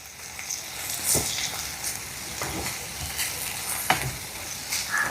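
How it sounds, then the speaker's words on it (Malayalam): Brinjal curry with turmeric powder sizzles in a pan while it is stirred, a moderate, steady frying hiss broken by repeated scraping swells from the spoon. "നമുക്ക് നന്നായിട്ടൊന്ന് ഇളക്കി കൊടുക്കാം."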